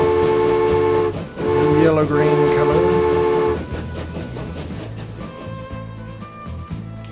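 A Transport Fever 2 video game train on a new Reno to Carson City railroad line sounds a long, loud horn, then settles into a rolling, rhythmic clatter, while someone speaks briefly over it.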